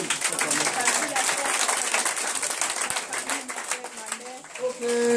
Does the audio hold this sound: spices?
no